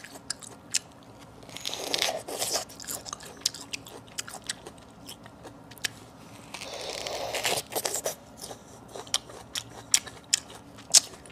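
Close, crisp bites and wet crunchy chewing of yellow peach, with two louder juicy bursts of biting and scattered sharp clicks of mouth noise between them, no talking.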